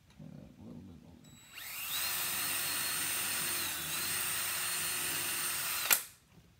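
A power drill whirs up and runs steadily at high speed for several seconds, pre-drilling a screw hole to mount a figure skate blade on a hockey boot, then cuts off with a brief high squeal; no talking.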